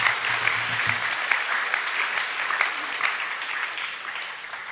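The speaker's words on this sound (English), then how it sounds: "Give him another round of applause." Students and staff at a school assembly break into a sustained round of applause after a performance, a steady wash of clapping that fades slightly toward the end, with a brief low voice near the start.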